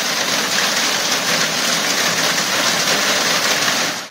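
Torrential evening thunderstorm rain in Afyonkarahisar, a loud, unbroken broadband hiss of heavy downpour, steady and near for the whole stretch with no voices.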